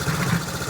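A 1969 Honda CT90 motorcycle engine idles steadily up close, a low, even putter with a slight rhythmic throb and no voices over it.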